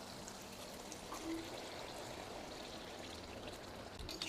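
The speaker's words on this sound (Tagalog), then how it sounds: "pwede na po tayo mag-add ng 1 cup of water pa" A cup of water poured into a cooking pot, making a steady, continuous stream and trickle that runs from start to finish at a moderate level, with no voices.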